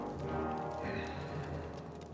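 Rhythmic clip-clop of horse hooves over a busy game soundscape in Kingdom Come: Deliverance II, with a faint voice in the mix.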